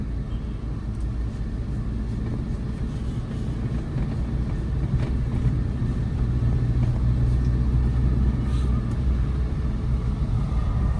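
Car engine rumbling steadily on a single road during a beginner's driving lesson, speed building in first and second gear; a continuous low drone of engine and road noise, close and even, with no talk.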